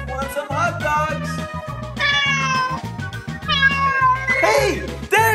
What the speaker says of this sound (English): Yay, there you are, cat!